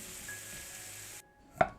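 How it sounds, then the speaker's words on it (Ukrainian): Chopped onions sizzle in a frying pan still holding the fat left from frying meat, a steady hiss that cuts off abruptly, followed by a single sharp clink of utensil on pan. "Перекладаємо цибульку на сковорідку, де смажилося м'ясо."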